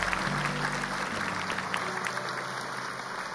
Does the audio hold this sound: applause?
yes